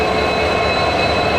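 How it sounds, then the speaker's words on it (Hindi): A WDP4 diesel locomotive hauling a train on the Bengaluru to Mangaluru line through Shiradi Ghat gives a steady, loud rumble of engine and rolling wheels, with a faint high squeal running throughout. "यहाँ पे दूर से ही वो आवाज़ आ रहा है जो मुझे आज आपको सुनाना था। लोकोमोटिव मिली है WDP4"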